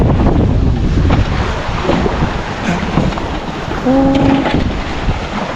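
Abnormally strong wind buffets the microphone in a loud, continuous roar with gusting surges, a brief tonal whine near the end, and no voices.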